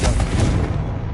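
A Confringo blasting spell fired in Hogwarts Legacy on PS5 gives a single loud, close explosive boom with a deep rumbling tail that fades over about a second.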